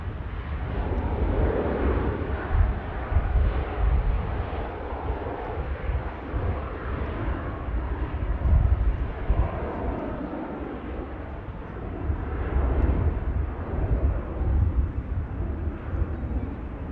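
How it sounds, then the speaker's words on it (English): An Air France airliner takes off and climbs out of Manchester Airport, its jet engines a steady, distant rumbling roar that swells and eases slightly over a long stretch. "Air France begins to climb out"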